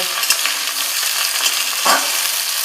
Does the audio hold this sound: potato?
yes